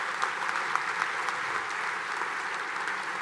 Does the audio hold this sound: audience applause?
yes